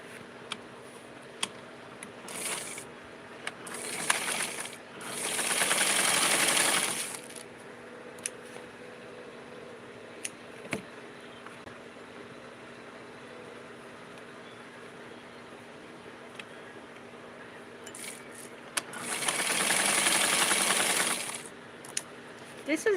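A home sewing machine stitches along the side of a garment collar in two separate bursts of steady mechanical running, with quiet handling and clicks in between.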